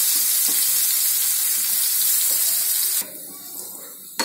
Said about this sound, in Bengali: আমি এখানে একটা করলা নিয়েছি এটা বেশ কড়া করে ভেজে নিতে হবে